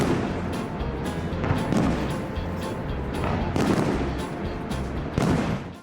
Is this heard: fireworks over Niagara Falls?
yes